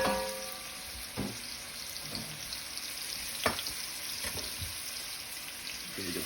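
Chorizo chicken tinga simmering in a pan gives a steady soft sizzle, with a few short scrapes and knocks of a spoon as it is stirred, close and moderately loud.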